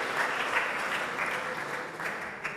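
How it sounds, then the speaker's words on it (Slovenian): An audience at a Lenten lecture gives a soft, steady round of applause, a continuous wash of many clapping hands heard from a little distance at moderate volume. "dajmo en aplavz, Panto, ja."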